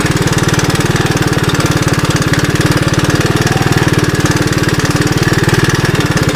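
1981 Honda 185S motorcycle engine idling with a carburetor idle circuit that isn't quite right, giving a loud, close, rapid and steady thumping putter that goes on without a break.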